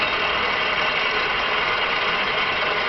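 A 6T82G horizontal milling machine hums with a steady, loud, continuous mechanical drone as its table moves, with no break or change in level.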